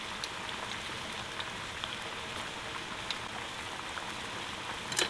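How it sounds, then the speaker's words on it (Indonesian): Water boils in a cooking pot before vegetables are added, a steady fizzing bubble with faint pops and small clicks throughout, fairly quiet and without speech. "Airnya udah mendidih."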